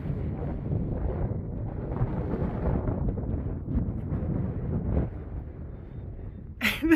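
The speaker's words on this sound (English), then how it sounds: "Super windy." Strong wind buffets the microphone on the bare summit of Mount Moosilauke, a continuous loud rumbling roar that surges and dips, with a brief sharp burst at the end.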